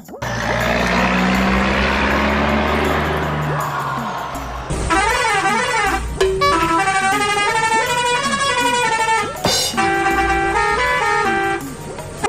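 An arriving lorry sounds a loud, sustained air horn in a sequence of melodic toots and pulses, following a rumble of engine noise, with faint voices in the background.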